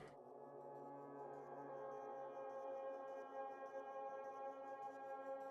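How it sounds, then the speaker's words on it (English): A sustained drone from a pulsed modular synth rig, with steady tonal layers and a gently pulsing, shimmering texture, moderately quiet and without any voices. "Little modular rig that's being kind of pulsed"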